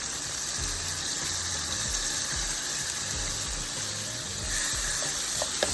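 Minced garlic hits a pan of colorful vegetables for penne alla vodka, giving a steady, bright sizzle with soft stirring scrapes and low knocks underneath, close and continuous throughout.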